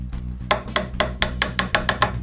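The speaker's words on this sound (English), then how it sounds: "I use a small card scraper, which I insert in the saw curve and hammer it down to the marking gauge line to cut the wood fiber" A small card scraper is hammered down into a dovetail saw kerf in wood while drawers are being made: eight crisp, evenly spaced taps up close, loud and alone over a low steady hum.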